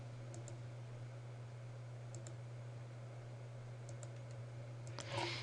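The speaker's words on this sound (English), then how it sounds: "just type your name" Computer keyboard keys tapped in short, sparse clusters, soft and close, over a low steady hum, ending with a brief louder rustle.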